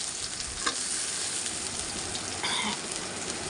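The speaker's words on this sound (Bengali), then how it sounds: "এখানে আমি পেঁয়াজগুলো অ্যাড করে দিলাম, কুচানো পেঁয়াজ" Chopped onions sizzle steadily in a frying pan with green chillies and cumin, a dense continuous hiss, and a spoon stirring them makes brief scraping sounds.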